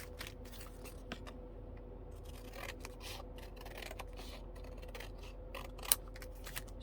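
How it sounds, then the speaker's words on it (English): Scissors cutting a narrow junk journal spine, quiet close snips and paper rubbing with one sharper click, faint over a low room hum and no talk. "this spine is way too narrow, so I'm gonna cut this off"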